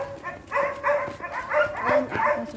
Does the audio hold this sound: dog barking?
yes